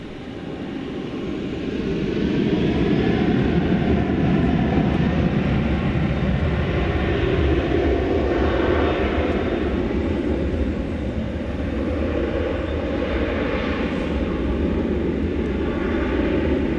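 An American Airlines jet takes off from runway 18 left at DFW Airport at night, bound for Austin, Texas; a broad, steady engine roar builds quickly and holds loud and continuous throughout.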